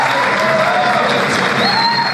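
Audience applause at the swearing-in ceremony of a political foundation's new leadership, a loud, steady wash of clapping with crowd noise and some voices mixed in throughout.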